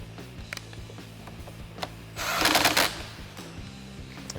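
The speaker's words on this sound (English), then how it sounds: "Get our nut tightened back down again." A nut is tightened on a battery terminal with a ratchet, making rapid close clicking in short bursts, with a denser, louder run of ratcheting clicks in the middle.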